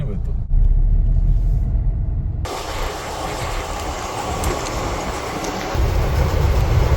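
A train rumbles and clatters close by, a heavy continuous roar that shifts in tone partway through and keeps going.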